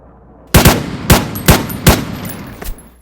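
Gunfire in the video game War Tycoon comes as several loud, close shots in short bursts, with a brief pause between bursts and nothing else heard.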